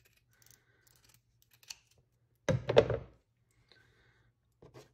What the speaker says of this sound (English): Now, I'm gonna cut from this side.